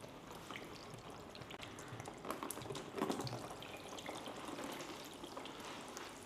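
Simulated downpour of water pouring onto a car window coated with water-repellent treatment, a steady close rush of splashing and trickling water with no talk.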